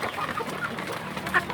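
Free-range village chickens cluck softly in a group while feeding, with scattered short clucks and one sharper call near the end, close by and fairly quiet.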